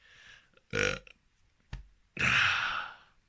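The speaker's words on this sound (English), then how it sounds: "First burp of a video, bound to be one." A long, deep burp rumbles out near the mic, preceded by a shorter belch and a faint breathy click, with no talk.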